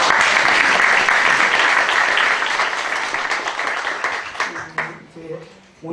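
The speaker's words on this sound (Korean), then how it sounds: "우리 박수 한 번 더" Congregation applause fills a church's 40th anniversary thanksgiving service, a dense burst of clapping that fades and thins into scattered claps over a few seconds.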